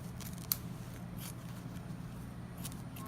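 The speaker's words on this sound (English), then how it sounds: "So first off, you just need to cut your sponge" Scissors snip through a kitchen sponge or foam block for a homemade squishy, a single sharp cut near the start followed by faint rustling handling, close and quiet with no talking.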